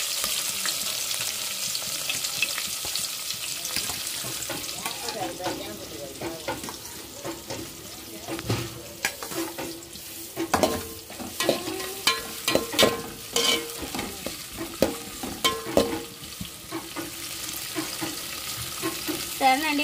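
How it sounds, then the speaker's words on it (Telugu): Green chillies, onions and fenugreek seeds frying in a pan, a constant sizzle broken by bursts of scraping and stirring that grow busier and more rhythmic in the second half. "పచ్చిమిరపకాయలను అలానే ఇంకా ఉల్లిపాయలు, తెరమతి గింజలు మొత్తం బాగా వేగాలి"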